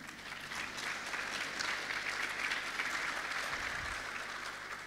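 An academic conference audience gives a steady, sustained round of applause for Prof. Temane after his session talk, a dense even wash of many hands in a large hall with a low hum underneath and no speech.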